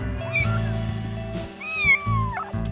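Several loud kitten meows from a young cat about four weeks old, the first and last drawn-out and rising, set over a steady low hum of background music with no talking.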